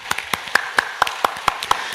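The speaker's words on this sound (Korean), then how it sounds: "우리 하나님께 영광의 박수 한번 보내겠습니다." A church congregation at a Sunday service claps in a steady, even rhythm, with about nine evenly spaced beats close by and no voices.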